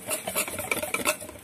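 Pancake batter thinned with a little water being mixed in a bowl, a quick run of close, irregular stirring and tapping strokes with no talk.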